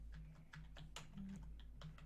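Steady keystrokes on a computer keyboard during play of a homemade soccer game, a run of light, close clicks over a low constant hum, with no talk.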